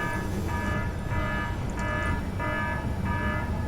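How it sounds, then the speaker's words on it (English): An alarm repeatedly sounds aboard a ship in the space game Space Engineers: steady pulsing bursts of a buzzing tone about every second, fairly loud over a constant low rumble, with no talking. "The alarm's still going, though."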